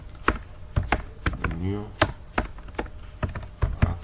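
Computer keyboard typing while coding a login page, with sharp separate keystrokes in an uneven rhythm, close and fairly loud, a brief spoken phrase breaking in partway through.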